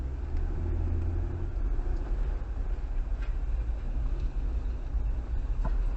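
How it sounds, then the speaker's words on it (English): A car drives out across open ground, with a steady, loud engine rumble and rolling noise that holds evenly throughout, no voices over it. "He's just driving right out across there, isn't he?"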